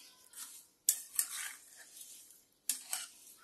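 A spoon scrapes and clinks in a pan of strawberry pieces and sugar cooking into jam over medium heat, with a few sharp metallic knocks among softer stirring scrapes, fairly quiet and close.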